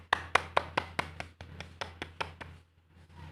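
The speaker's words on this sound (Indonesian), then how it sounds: "Kita beri aplaus kepada teman kita." Classroom applause for a student: a steady run of about a dozen crisp, evenly spaced hand claps, loud at first and then softening and tapering off near the end.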